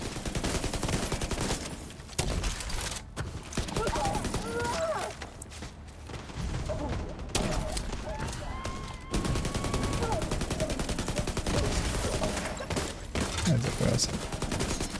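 Artillery and gunfire from a faction fight in a video game: a dense, continuous barrage of overlapping shots and blasts, with brief lulls, steady and loud throughout.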